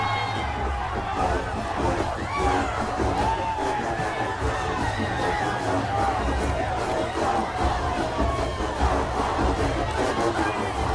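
Large crowd at a JSU versus FAMU marching band fifth quarter roars and cheers continuously, a dense wall of shouting and whooping with band sound mixed in, loud and steady throughout.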